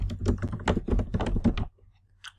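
Fingers typing a message on a computer keyboard, a quick close burst of clattering keystrokes for about a second and a half, then near silence with one faint click.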